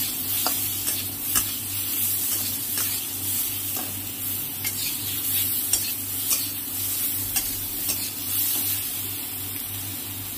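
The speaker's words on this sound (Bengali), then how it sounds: "এবার একটু আদা আর একটু জিরে দিয়ে একটু নাড়িয়ে চাড়িয়ে নেব।" Potatoes with ginger and cumin are stir-fried in a pan: a constant low sizzle runs underneath while a spatula scrapes and taps in a regular rhythm, close up and with no voices.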